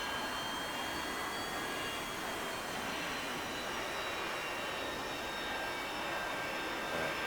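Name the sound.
A-4 jet engine on runway in video game DCS World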